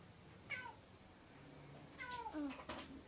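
A cat meows a few times, faint and somewhat distant, with short separate calls and a soft voice murmuring quietly in the background.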